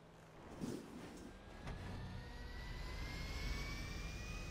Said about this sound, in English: Ready to see me perform a takeoff on a very